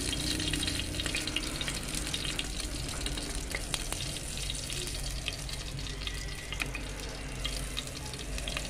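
Mustard seeds frying in hot oil in a pan while cooking a pumpkin dish give a busy, crackling sizzle throughout, with scattered sharp pops and a watery hiss, close and fairly loud, with no voices.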